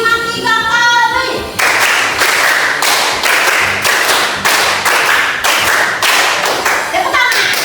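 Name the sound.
children clapping hands in rhythm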